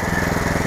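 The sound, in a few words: power weeder machine cutting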